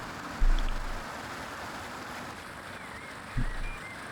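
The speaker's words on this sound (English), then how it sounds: "I can't hear you over the waterfall." Waterfall in the video game Black & White 2, a steady broad rushing of falling water with two brief low thumps breaking through, continuous and moderately loud.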